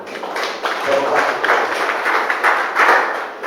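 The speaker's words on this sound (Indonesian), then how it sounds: "Tepuk tangan untuk Tuhan." A church congregation claps together in praise, a continuous burst of overlapping handclaps with some voices mixed in, moderately loud and filling the room.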